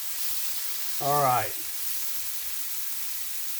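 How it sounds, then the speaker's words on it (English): Meat sizzles in a frying pan close beneath the camera, a steady hiss running through the whole moment while a voice briefly speaks over it. "this sizzling is right there just underneath the camera"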